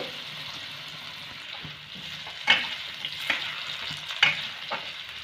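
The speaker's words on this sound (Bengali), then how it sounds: "হলুদ দিয়ে ভেজে নেব আলুটাকে।" Potato pieces frying in oil with turmeric give a soft, steady sizzle, broken by a few louder scrapes and clatters as a utensil stirs them in the pan. No one speaks.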